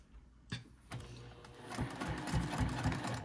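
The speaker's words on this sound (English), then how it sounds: "we're going to top stitch through the exterior panel" A sewing machine top stitches through the exterior panel of a small zipper pouch, starting with a few separate thumps and then building into a close, steady, rhythmic stitching run.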